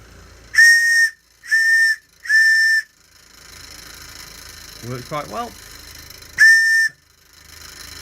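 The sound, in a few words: brass bullet whistle blown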